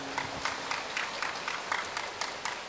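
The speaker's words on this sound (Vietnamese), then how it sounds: "xin cộng đoàn chào mừng Đức Cha bằng" Congregation applauding to welcome a bishop at a church Mass, a steady patter of clapping from a crowd, fairly soft and a little distant, with no voices.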